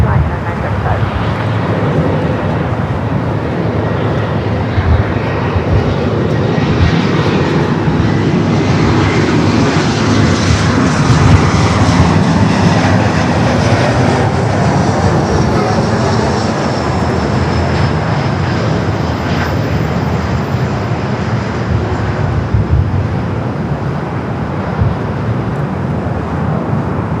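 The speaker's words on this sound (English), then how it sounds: "Now we got that United Dreamliner number 2 for arrival here on the north side." A United Boeing Dreamliner lands on runway 24 right at Los Angeles airport, LAX, with a loud, sustained jet engine roar that fills the whole stretch and never lets up.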